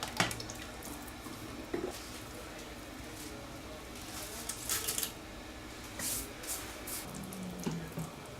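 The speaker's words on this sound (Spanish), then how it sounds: "Lo que acabo de hacer ahora mismo es escurrir los espaguetis" Cooked spaghetti is drained in a kitchen, giving a continuous wash of running, splashing water with occasional clatters and knocks, fairly quiet and steady throughout.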